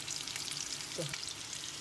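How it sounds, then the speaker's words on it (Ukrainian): Meat cutlets sizzle steadily in a hot pan over lowered heat, a constant crackling hiss with small pops, close and fairly quiet. "Ми наші котлети перевернули і хай вони смажуть."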